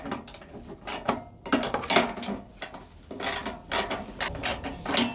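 A socket ratchet drives a screw into the front wing of a Renault Twingo 1, making bursts of rapid clicking strokes with short pauses between them, close and fairly loud.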